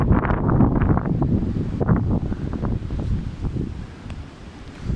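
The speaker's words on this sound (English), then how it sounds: "Oh, big wind gust coming in." Strong Storm Dennis gusts roar across an outdoor microphone in rain, a loud and continuous rumbling wind that surges hardest early on and eases slightly toward the end.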